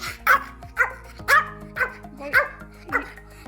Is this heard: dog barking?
yes